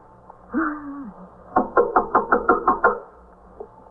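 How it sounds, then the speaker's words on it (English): Knocking on a door in an old radio police drama: a burst of about eight firm, evenly spaced raps, close and clear, following a short tonal sound, with no talk during the knocks. "All right, you better knock on the door."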